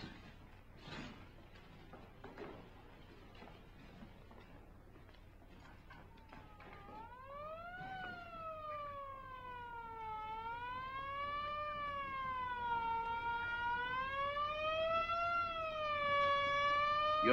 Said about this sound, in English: I was just curious about that siren. Oh, an ambulance.